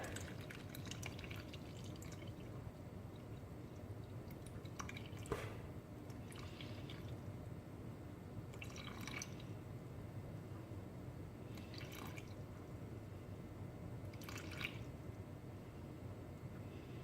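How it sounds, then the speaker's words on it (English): Water trickles into a yeasted baguette dough mixture in a bowl, a faint, steady liquid hiss with several brief drips and splashes scattered through the pour, quiet and close, with no talking. "132 grams of water"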